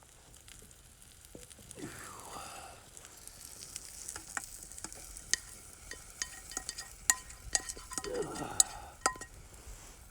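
Food browns and sizzles in a pan over a campfire at a campsite; quiet steady frying is broken by sharp metallic clinks and scrapes of stirring, all nearby with no talking.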